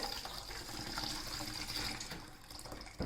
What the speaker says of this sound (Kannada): ತಣ್ಣೀರನ್ನು ಹಾಕಿ ಚೆನ್ನಾಗಿ ತೊಳ್ಕೊಳ್ಬೇಕು.